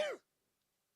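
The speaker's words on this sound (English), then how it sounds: "Nice cough." A single short, close cough opens the moment and is followed by near silence, with a faint sound cut off at the very end.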